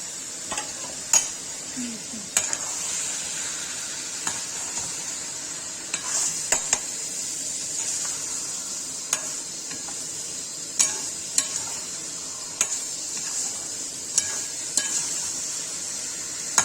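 A spoon scrapes and clinks against a pan at a steady pace while paneer sizzles continuously in tomato puree underneath.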